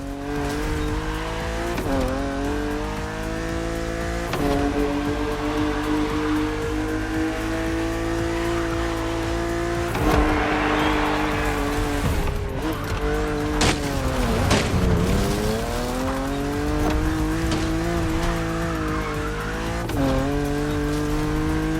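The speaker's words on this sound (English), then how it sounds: "Your car is the Z4 E89, a very cool model for two major reasons" BMW Z4 E89 coupe cabriolet in The Crew Motorfest racing game, its engine droning and rising through gear changes with brief tire squeals and skids, loud and continuous with no talk.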